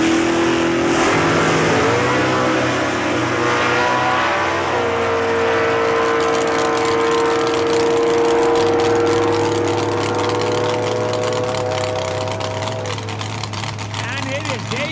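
Drag race cars, including Dave Fuzzy Carr's 1962 Ferrari, rumble and rev at Saskatchewan International Raceway. A loud, continuous engine drone shifts in pitch beneath an announcer's commentary.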